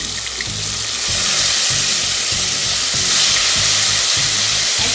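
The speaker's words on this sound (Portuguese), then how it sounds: "Vai deixar fritar o alho, tá vendo?" Garlic frying in a pan for macaronada, a loud, steady hiss and crackle of hot oil heard up close, with faint rhythmic scraping as it is stirred. No one speaks.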